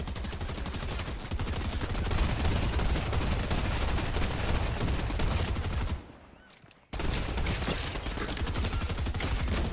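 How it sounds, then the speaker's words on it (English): Dense, continuous gunfire from a Fortnite match, with a sniper rifle among the weapons, rattles loudly and almost without pause, broken only by one brief near-silent gap before the shooting resumes at full intensity. "I blasted him with the sniper rifle point blank, dude."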